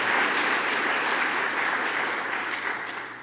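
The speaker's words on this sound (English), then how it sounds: "Give her a big round of applause." An audience at a lake association's annual meeting gives a steady, dense round of clapping for a summer intern, continuous and fairly loud for a few seconds with no talking.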